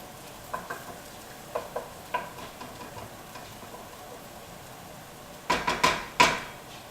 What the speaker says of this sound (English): Okay, those onions are browning up nicely.